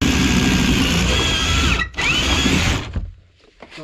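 Power drill boring through a wall, likely into steel, during radiator installation; loud continuous grinding whine with a brief pause and pitch change, then it winds down near the end.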